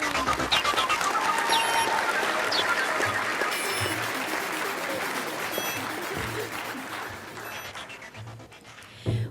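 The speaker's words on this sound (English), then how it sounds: "A round of applause for the contestants." Steady applause from a crowd at a 4-H style revue fills the whole stretch, dense and even, with a few brief cheers or bright calls rising over it.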